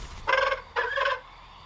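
A bird in the Lord of the Rings: Gollum video game lets out two loud, close, gobbling turkey-like calls in quick succession, with no talking.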